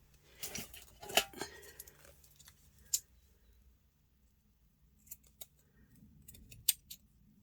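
Scissors trimming a piece of gelli-printed paper for a grungy collage, with a few sharp snips and light rustles near the start and a scattering of quieter clicks and snips later, close and fairly soft.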